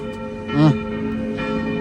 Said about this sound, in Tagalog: Ang ingay ng kampana, mga kaibigan, sa simbahan,